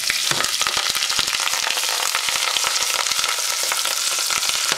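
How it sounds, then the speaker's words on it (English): Garlic fries golden brown in a pan for clam pasta sauce as parsley goes in. A dense, loud, continuous sizzle and crackle carries all the way through, close up, with no voices. "the garlic has turned golden brown. And I'm gonna throw the parsley in."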